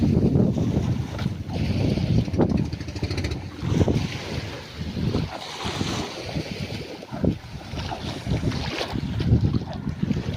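Strong wind buffets the microphone in rough, gusty rushes, with a faint wash of water and boat noise underneath.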